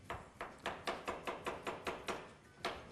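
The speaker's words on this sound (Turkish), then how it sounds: "hemen havuçları ilk önce bir doğrayalım." A knife chops carrots on a kitchen counter board in a steady rhythm, about ten crisp strokes close by, with no talking.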